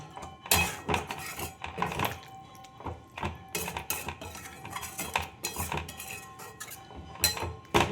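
Metal utensils clink and clatter against a cooking pot of chicken curry in a series of sharp, close knocks as a lid is fitted over it, with no voices.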